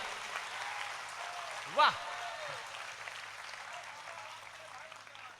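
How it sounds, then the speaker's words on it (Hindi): Audience applause at a Hindi comedy poetry show, a steady wash of clapping throughout with a brief voiced exclamation near the start. "थोड़ी ढंग से ताली बजाइए"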